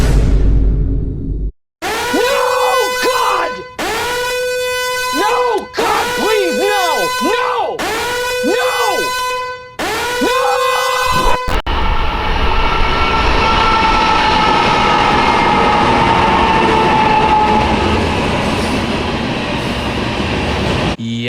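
A CPKC-painted locomotive, number 7431, an ex-Baffinland Railway Tier 4, sounds its horn in several long, loud blasts, then the train roars past close by in a steady rolling rush.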